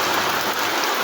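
Heavy rain pours down in a village, a loud, dense, unbroken roar of drops beating on surfaces close by.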